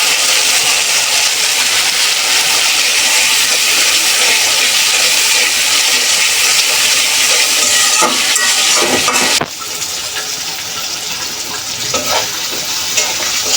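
Lentils tipped into spices frying in a pan, a loud, steady sizzle with stirring scrapes throughout, easing slightly after a brief clatter near the end.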